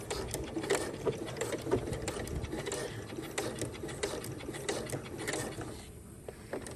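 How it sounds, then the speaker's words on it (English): A sewing machine back stitches an elastic waistband on pajama shorts, running in a steady close mechanical whir with rhythmic needle clatter, then slowing and pausing near the end, and no talking. "Back stitch."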